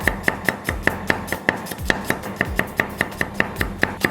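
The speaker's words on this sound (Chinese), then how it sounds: "接下来咱们切点蒜片儿" A kitchen knife chops garlic into slices on a cutting board, steady rhythmic knocks about four per second, close and loud with no talking.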